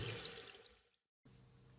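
Plain tap water runs and splashes over a power station circuit board, a close hissing spray that fades over about a second, cuts to silence, then resumes as a faint low trickle.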